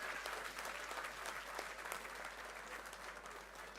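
Steady audience applause fills a hall at the Dominica Labour Party delegates conference opening ceremony, dense continuous clapping from a large crowd that holds an even level throughout.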